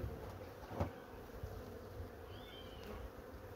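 Honeybees humming around a hive badly weakened by varroa mites, its frames just lifted. A steady, low drone of many bees continues throughout, with a few nearer buzzing passes and faint knocks.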